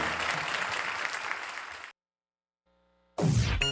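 Loud, dense applause for a musician and his band fills the first two seconds, then cuts to silence before a brief burst of sound returns at the end.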